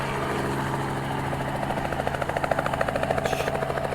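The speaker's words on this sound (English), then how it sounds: "Looks like we're clear for takeoff." A helicopter lifting off over Orlando, its engine whine and steady rotor drone rising into a loud rhythmic blade thump that grows more pronounced toward the end.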